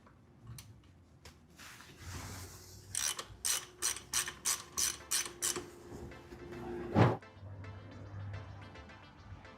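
A vehicle's drain plug is tightened with a ratchet and then torqued, giving a run of about eight evenly spaced close ratchet clicks, followed by one sharper, louder mechanical snap, with quiet workshop hum before and after.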